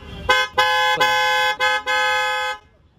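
An aftermarket Hydrosonic car horn fitted to a Tata Punch honks close and loud. Several bright, musical blasts of uneven length come in quick succession, the last one held for about a second before cutting off. No one talks.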